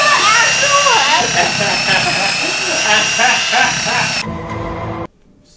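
A drill whirs continuously and loud at close range with a steady high-pitched motor tone, then cuts off abruptly, leaving near silence.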